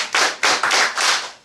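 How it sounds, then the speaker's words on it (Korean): A group of students at a small cafe performance claps on cue, five sharp hand claps in a quick, steady rhythm that stand alone without talk. "박수 다섯 번 시작!"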